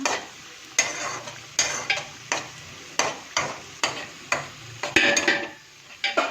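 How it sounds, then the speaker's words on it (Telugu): Marinated chicken frying lightly in oil for dum biryani, with steady sizzling and regular, evenly spaced stirring strokes scraping the pot, close and loud with no speech. "ఆయిల్లో కొద్దిగా లైట్గా ఫ్రై అయ్యే వరకు ఉంచాలి"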